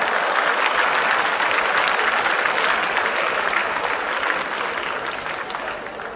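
Audience applause at a Cantonese stand-up comedy show, a dense steady wash of many hands clapping that runs loud throughout and tapers slightly toward the end.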